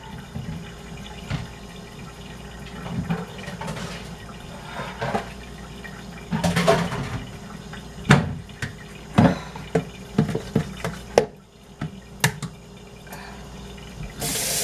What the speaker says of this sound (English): We'll wash this and dry it and then put something under it so we don't lose any of the rice.